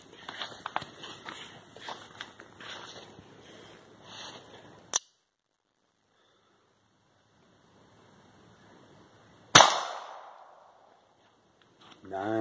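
A single sharp .22 LR pistol shot from a Browning Buck Mark during outdoor ammo velocity testing, loud and close, with a ringing decay; it follows a stretch of near silence after earlier handling noise and a short click.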